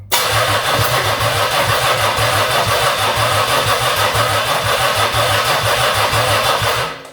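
A long-idle 1982 Oldsmobile 4.3 V6 diesel engine cranks loudly and sputters with rough, rapid chugging for several seconds, then cuts off abruptly.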